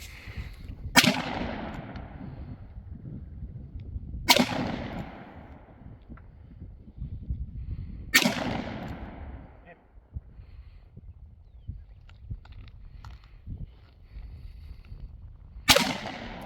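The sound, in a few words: gunshots from a 1873 single action .45 revolver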